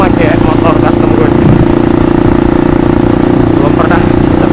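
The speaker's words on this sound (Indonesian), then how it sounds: "malam ini gue pakai motor custom gue" A custom motorcycle engine on a night ride runs loud and close with a steady, continuous drone that holds an even pitch throughout.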